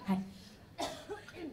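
A single close cough, followed by a short spoken word and a bit of throat sound.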